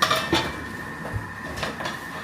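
Metal baking pans and a pizza tray clatter as they are handled indoors, an opening cluster of clanks followed by a few lighter knocks and scrapes, close by.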